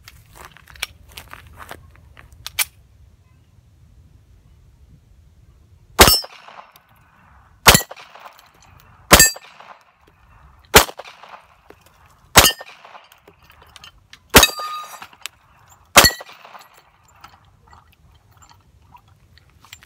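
A .45 ACP 1911 pistol fires a seven-round magazine at steel plates: seven sharp, loud cracks, each with a short metallic ring, spaced about one to two seconds apart, with quiet between them.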